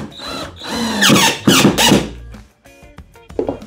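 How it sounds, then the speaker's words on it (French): A power screwdriver drives screws into the wooden panel of a DIY speaker cabinet, giving loud close whining bursts that rise in pitch, then a brief squeal and a short final spin. "je le place à l'équerre et je visse"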